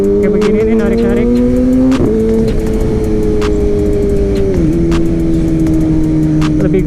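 A Kawasaki ZX4RR motorcycle's engine revs and pulls hard, its loud, steady tone climbing in pitch with a brief gear-change dip near the start and another midway, close and continuous throughout.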